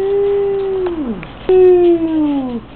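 A dog lets out two drawn-out howls, each gliding downward in pitch, close and fairly loud.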